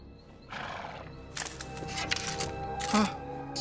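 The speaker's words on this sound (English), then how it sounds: "CGI horses." Animated horses neigh loudly with a shrill whinny near the end, over steady clip-clopping hooves, layered with dramatic music and background voices from a fantasy show.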